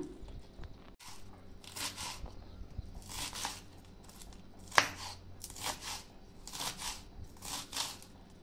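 Washed ivy gourd greens are sliced with a knife in a run of crisp, rustling cuts, repeated bursts of crunching and tearing close by with a single sharper snap midway, no voices.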